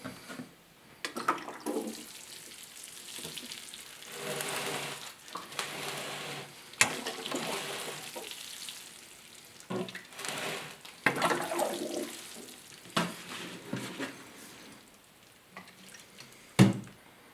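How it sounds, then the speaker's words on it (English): Water poured over a freshly repotted clump-style Ficus benjamina, running and trickling through the soil in uneven bursts across about seventeen seconds, fairly quiet and close with no talking. "all that's left to do is give this Ficus benjamina a watering"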